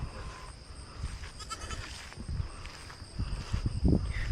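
Goats on a homestead give a short bleat and some faint animal calls amid quiet outdoor rustling and footsteps, fairly close but soft overall.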